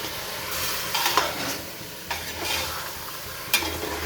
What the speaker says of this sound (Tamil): ஆனால் இப்போ சிக்கன் போட்டோடனே ஹை ஃப்ளேமில் தான் இருக்குது